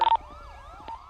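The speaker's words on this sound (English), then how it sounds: "Siren check." A police car siren in Grand Theft Auto V, a brief loud wailing tone that sweeps up and down after a couple of short electronic blips, heard alone.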